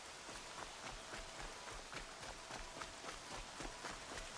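Rain falling steadily in a video game, a dense even patter of drops on surfaces with a faint rhythmic tapping running through it, fairly quiet and without voices.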